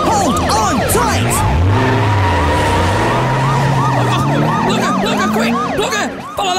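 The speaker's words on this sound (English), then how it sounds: "Quick, Blugger, follow that police car." Wailing police sirens rise and fall repeatedly over a loud, steady car engine rumble, close and continuous throughout.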